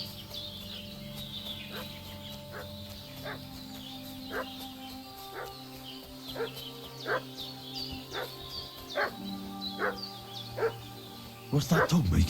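A dog barks repeatedly in the medieval video game Kingdom Come: Deliverance II, evenly spaced barks under steady ambient music, with chickens clucking and birds in the village setting and a louder burst at the end.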